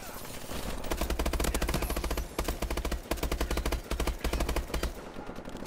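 Rapid automatic gunfire in a competitive video game shooter, loud bursts of quick shots with short pauses between them, fading toward the end.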